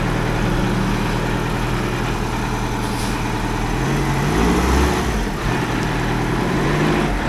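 The diesel engine of an Oshkosh M1070 8x8 HET heavy truck, brought back from scrap, idles loud and close with a steady low rumble and a brief rise in revs midway.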